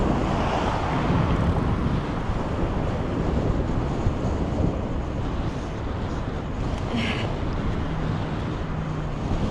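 Wind buffets a microphone while a person rides a bike in Toronto, a loud, steady broadband rumble and roar that fills the whole stretch without pause.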